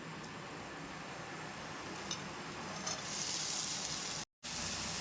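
Ponnaganti greens fry in a pan without oil over a gas flame, giving a steady, dense sizzle that swells slightly and cuts out briefly near the end.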